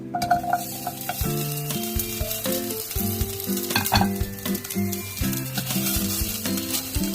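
Taro root sautéing in a pan gives a steady, fairly loud sizzle and crackle throughout, with melodic background music playing over it.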